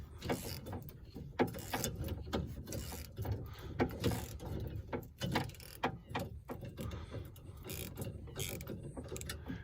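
A ratchet wrench working a 10mm bolt on a 2000 Ford F350 door during passenger window replacement, steady repeated ratcheting clicks close by, with short pauses between strokes.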